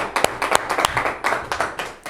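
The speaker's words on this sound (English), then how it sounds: "let's give them a round of applause in the room." An audience at a sketch comedy show claps in a round of applause, a loose run of sharp, uneven hand claps close by with no voices.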